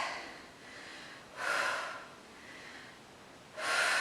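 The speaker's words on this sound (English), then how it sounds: "Big exhales." Two big forceful exhales during a Pilates squat, each a loud breathy whoosh of about half a second, spaced a couple of seconds apart with quieter breathing between.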